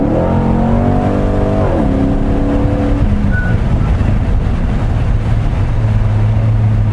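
A Corvette C6 Grand Sport's exhaust roars as the car accelerates, its engine note climbing, dropping back, then settling into a lower steady drone, loud and close throughout.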